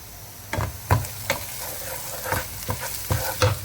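Onions fry in a pan with chutney powder and garam masala while a spoon stirs them, a close, steady sizzle broken by regular scraping strokes about every half second.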